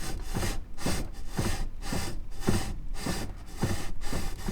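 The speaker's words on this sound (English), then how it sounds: "That's the plastic rubbing." Plastic trim rubbing against a car steering wheel during an NRG aftermarket wheel install on an F-body, a steady series of about eight scraping strokes in an even back-and-forth rhythm, close and fairly loud, with no talking.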